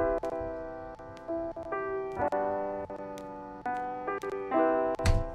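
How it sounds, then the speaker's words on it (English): A piano part from a smooth hip-hop beat plays alone, with sustained chords that change every second or so and sharp percussive clicks, ending in a louder hit. "Here's a piano."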